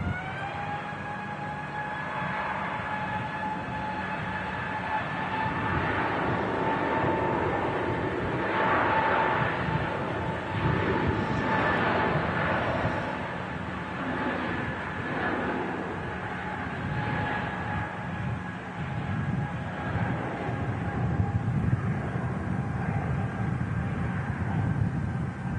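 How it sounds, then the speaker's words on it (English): An Airbus A320neo airliner taking off at Manchester Airport, a steady distant engine roar with a whining tone that swells slightly and holds throughout, without voices. "There goes the A320 Neo."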